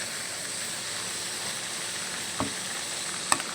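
Pieces of country chicken fry in a pan after ginger and garlic, giving off a steady, bright sizzling hiss with a couple of brief knocks near the end.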